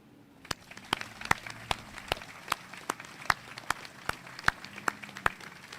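Sparse clapping at an Army ROTC commissioning ceremony, with a few distinct claps spaced in a loose, slow rhythm that sounds thin and somewhat distant rather than like a full ovation.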